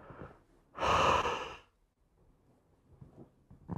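A single deep breath taken during a guided breathing exercise: one close, breathy rush lasting under a second, followed by near silence with faint rustling.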